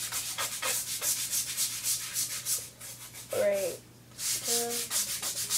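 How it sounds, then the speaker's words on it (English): Skateboard griptape scrubbed with a multi-purpose cleaner: rapid, rough back-and-forth rubbing strokes up close, pausing briefly while a voice speaks once. "just keep scrubbing until it gets all soapy"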